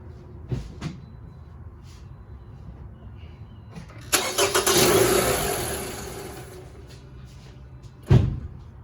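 A 2010 Toyota RAV4 four-cylinder engine cranks, catches and revs for a few seconds, then shuts off with a clunk, preceded by a couple of faint knocks in a quiet garage.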